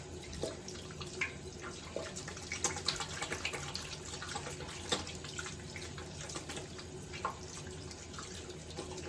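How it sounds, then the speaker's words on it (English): Tap water runs steadily into a sink while hands are rinsed vigorously, a continuous soft splashing with small irregular spatters, fairly faint and with no talking. "Rinse it really vigorously and very hard."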